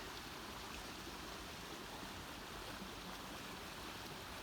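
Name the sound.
gushing water stream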